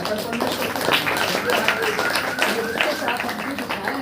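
A church congregation claps hands during worship. The clapping is a steady dense patter that runs throughout, mixed with loud voices speaking and singing over it.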